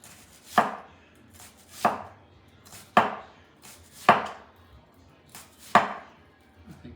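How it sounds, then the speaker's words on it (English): Knife chopping through half an onion on a cutting board, making fine slices: five sharp, evenly spaced chops about a second apart, close and distinct, with quiet pauses between them and no talking. "we're just going to cut a really fine slice on these too"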